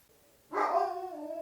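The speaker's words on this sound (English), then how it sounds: "Now that's a dog barking at the wind." A single dog barks close by, a sharp bark trailing into a drawn-out, whining howl, with quiet wind noise behind it.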